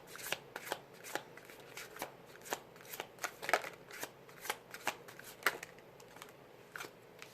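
A deck of tarot cards is shuffled by hand at close range, giving a steady run of crisp riffling flicks and soft slaps over several seconds with no talking.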